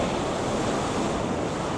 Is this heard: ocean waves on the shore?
yes